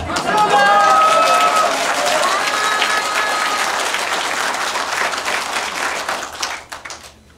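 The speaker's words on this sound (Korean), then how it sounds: "박수 소리가 좀 작은 것 같습니다" A crowd at a political talk show in Chuncheon, Gangwon Province breaks into loud, dense applause with cheering voices over it, sustained and fairly near before fading into a few scattered claps.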